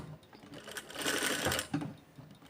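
A domestic sewing machine stitches practice lines along marked fabric, a steady mechanical whirr that speeds up and holds for about a second before slowing, with brief pauses and light clatter, close and fairly quiet.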